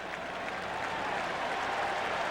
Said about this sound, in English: And the mock cheer goes up from the crowd here.